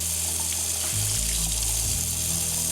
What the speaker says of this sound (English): Then I just give them a really gentle hand wash